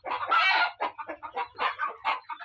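Pure desi gavran chickens, roosters among them, kept for sale, clucking in a steady series of close, loud calls with short gaps between them.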